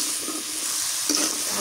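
Vegetables, stalk greens among them, fry in hot oil with a steady broadband sizzle, and a single louder scrape or stir sounds near the end; no voices.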